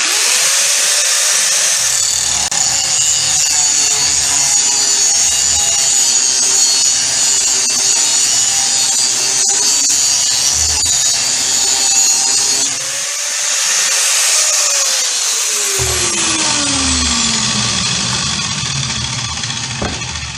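A power grinder whines loudly against a metal lawn mower blade, a harsh continuous high-pitched grinding that briefly drops off and resumes, then winds down as the motor spins to a stop.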